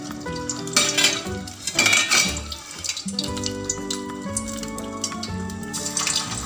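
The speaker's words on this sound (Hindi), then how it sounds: "ऑयल अच्छी तरह गरम हो चुका है। अब हम इसको लो फ्लेम करके इन बॉल्स को इसमें" Bread Manchurian balls dropped one by one into hot oil over a low flame, with bubbling and sizzling mixed with clinking utensils and pan knocks in an uneven, busy rhythm, and no speech.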